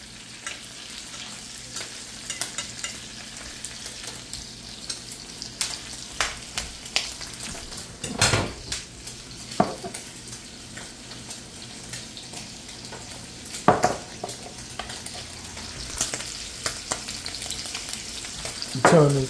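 Pork bacon sizzles and crackles steadily in a frying pan, a constant hiss broken by occasional scraping and stirring clatters and a brief run of tap water, with no talking.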